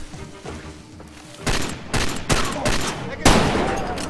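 Gunfire in the Far Cry 2 video game comes as four or five loud, close shots in quick succession after a quieter opening, with a low voice faintly heard under the first seconds.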